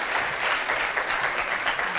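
Studio audience on a French TV talk show applauding, a brief burst of dense, steady clapping.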